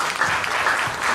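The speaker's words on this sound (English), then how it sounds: "let's give a fantastic round of applause to the future champion South Africa" Dense applause from an audience at a book launch, a short continuous burst of clapping that stays steady and fairly loud throughout.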